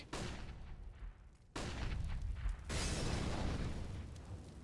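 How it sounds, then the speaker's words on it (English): Bursts and booms from a Counter-Strike match on the Mirage map, including flashbang grenades going off, a sharp onset followed by loud sustained rumbling and a second blast, with no voices. "Flashbangs being eaten."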